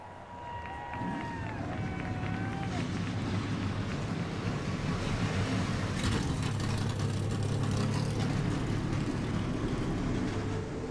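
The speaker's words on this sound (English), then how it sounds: "Drivers, start your engines!" A field of 42 Winston Cup stock cars fires up at Homestead-Miami Speedway in NASCAR Racing 2003. A voice comes first, then a loud, steady engine roar swells and holds.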